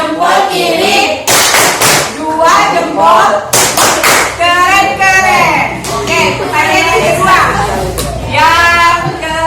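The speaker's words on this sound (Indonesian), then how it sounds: "Kasih tepuk dong. Tepuk keren." A group of children claps a rhythmic cheer clap in a classroom, several loud bursts of hand claps alternating with talk and chanting voices.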